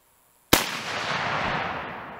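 Single rifle gunshot from a brush cartridge test shot, a sudden loud crack after half a second of quiet, followed by a broad rolling echo that lingers and slowly fades outdoors.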